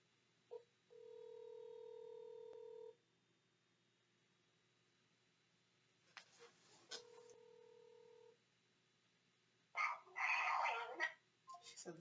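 A phone call being placed: a long steady dial tone, a pause, then a second tone burst and a brief click, followed by a louder crackly burst of ringback or line noise, all quiet and without talk.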